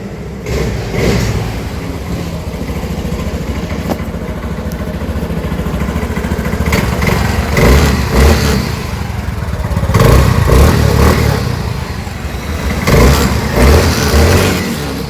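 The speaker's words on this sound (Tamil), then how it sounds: "வண்டி பார்த்தீங்கன்னா ஸ்டார்ட் ஆயிடுச்சு" A small Activa scooter engine, converted to a petrol-electric hybrid, runs and revs unevenly, its loud motor rising and falling close by with no talking.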